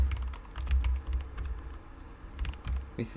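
Rapid, steady clatter of keys on a computer keyboard, dense runs of clicks with a short lull before typing resumes.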